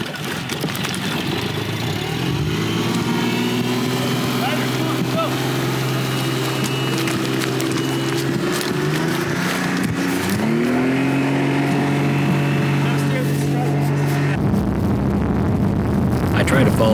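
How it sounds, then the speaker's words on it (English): Outboard boat motor running hard at full throttle down an Alaskan river, a loud steady drone with shifting pitch throughout, plus wind and water noise, cutting out abruptly near the end. "he made the decision to bail the water out and go full throttle down the river"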